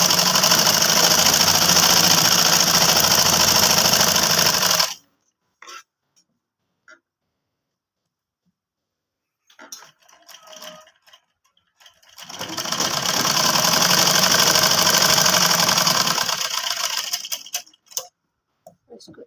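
A sewing machine stitching a kurti runs in two long steady whirring bursts, loud and close, separated by a quiet stretch with faint handling clicks.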